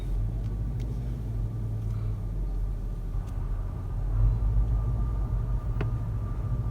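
Car traffic rumbles through a parking area at Riyadh Front, a steady low engine drone from vehicles nearby with a slight swell as one passes, no talk.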